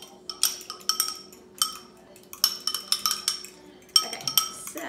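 A utensil beats eggs against a bowl in quick rhythmic bursts of bright metallic clinks and taps, close and fairly loud, pausing briefly between runs.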